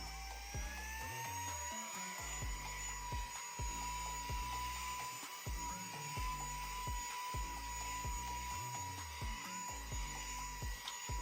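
Saker 3-in-1 vacuum cleaner running continuously with a high whine, plus rapid irregular rattling and clicking from debris being sucked up off surfaces, close and fairly quiet.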